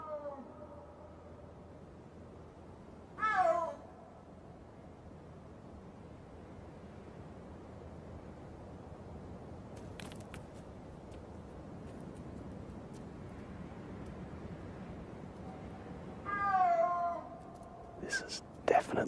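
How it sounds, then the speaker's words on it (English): Snow leopard calling in mountain terrain: two drawn-out yowling calls spaced well apart, with a few fainter sharp sounds, over steady wind noise. "If they're like other big cats, they may call like this for hours, just coming together and wandering apart."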